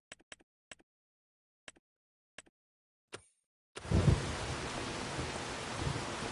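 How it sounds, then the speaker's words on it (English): Heavy rain in the Farm Sim 25 video game begins abruptly after a few short clicks, then keeps going as a loud, steady broadband wash with some low rumble, no talking over it. "I gotta get this rain going."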